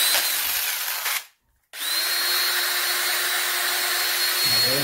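An electric drill whirs at high speed, stops briefly, then starts again and runs steadily, with a slight change in pitch near the end.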